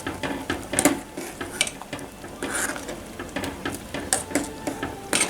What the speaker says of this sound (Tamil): இதை ஒருக்க நல்லா கலந்து விட்டுக்கலாம்